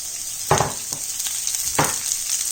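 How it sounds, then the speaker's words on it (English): Cabbage, carrots and peppers fry in hot oil in a wok, giving a steady close sizzle broken by two louder bursts of crackle as the vegetables are tossed. "In the same wok, add a couple of tablespoons of oil and throw in the vegetables."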